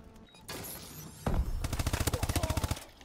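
Gunfire in the video game Call of Duty: Advanced Warfare during a Search and Destroy match, with a burst of loud rapid automatic shots in a fast even rhythm after a single blast, close and dominant.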